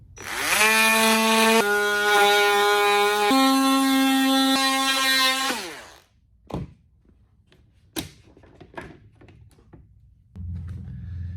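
A power tool cuts around the rim of a clamped thin plastic Sterilite container, a loud sustained whining drone with shifting pitch for several seconds, followed by clunks, knocks and handling noises.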